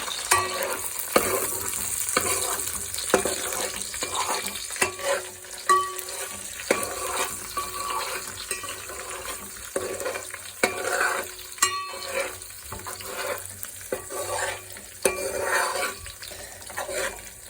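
Chicken curry with green chillies frying in a pan, stirred again and again with sharp scraping clatters over a steady background sizzle and splashy bubbling.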